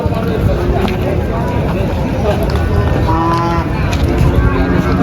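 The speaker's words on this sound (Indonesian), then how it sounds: "ini sapi jantan-jantan yang baru berdatangan" Young Limousin bulls low on a cattle farm, deep moos rising over a loud, constant background rumble while someone talks nearby.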